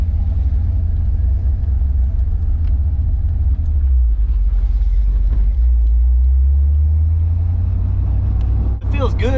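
Ford Mustang Foxbody with a freshly replaced clutch drives along, its engine giving a steady loud low rumble that swells and settles, with a brief sharper sound near the end.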